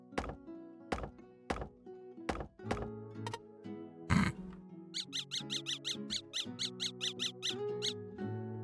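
A dog's squeaky toy squeezed in a quick run of sharp, high squeaks, after a few dull thunks, clear and close with no talk.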